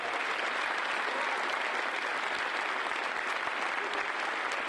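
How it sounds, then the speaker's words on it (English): A large crowd at a hacking conference closing ceremony applauds the winning teams, a continuous, even roar of many hands clapping at steady loudness throughout. "So let's give those guys an applause for them"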